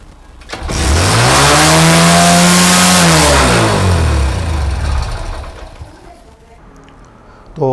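A motorcycle engine with a fault starts up and its revs climb by themselves, rising to a loud, steady high-RPM roar close by before dropping back down as the engine settles.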